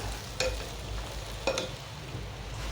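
Sushila poha is stirred in a pan over a low gas flame, a faint steady sizzle with two soft scraping strokes of the spoon, close and quiet with no talking.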